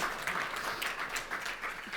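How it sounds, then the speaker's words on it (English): An audience claps for a panel at a transport conference session, a dense, steady wash of applause lasting a couple of seconds without pause. "Round of applause for our panel."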